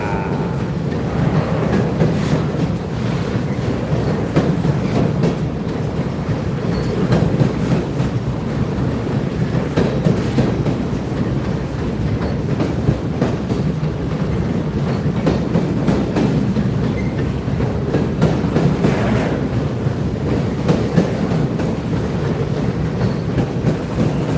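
A long, empty northbound grain freight train rolls steadily past, its loud, continuous rumble carrying a rhythmic clickety-clack of wheels over rail joints throughout.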